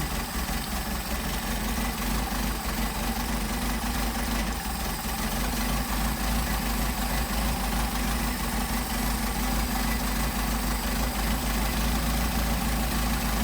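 Engine fitted with Solex 44PHH carburetors running steadily at idle, a loud constant mechanical drone with even vibration throughout and no talking.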